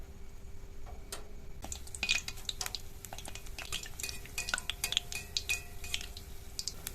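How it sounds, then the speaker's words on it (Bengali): Pithe cakes fry in hot oil in a wok, a faint steady sizzle broken by light clinks and ticks of a utensil against the pan. "গরম তেলে এবার পিঠেগুলো হালকা লাল করে ভেজেই তুলে নেব।"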